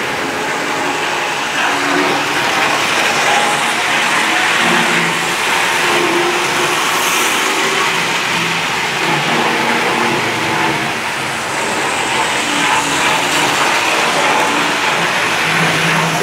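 Hornby Triang model train motors run continuously, a steady mid-range whirring hum with a busy, broadband mechanical rumble that holds at a constant level throughout, with no talk.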